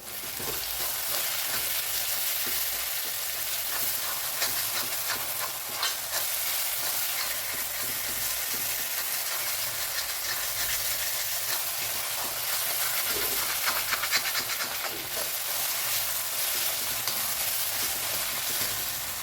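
Curry leaves frying in a pan of sautéing onions and masala for a Kerala-style chicken roast, giving a steady, close sizzle with stirring scrapes throughout and no talk.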